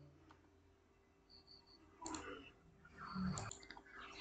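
A computer mouse clicks an option on an online teacher recruitment registration form, giving a few small, quiet clicks over a low background hum with no talking.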